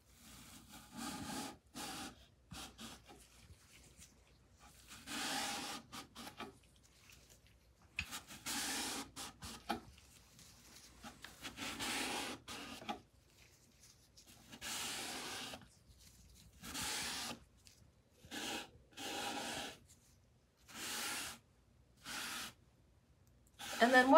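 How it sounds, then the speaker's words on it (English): A rag wipes color stain along wooden decor in repeated strokes, each rub a short soft scraping burst separated by pauses, close and fairly quiet with no talking. "Okay, so next I would just take the rag again and wipe in this direction."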